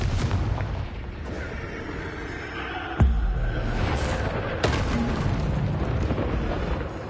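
Explosive spells such as Bombarda and Confringo boom in Hogwarts Legacy, loud blasts over dense, rumbling game combat, with a sharp burst near the middle and another shortly after.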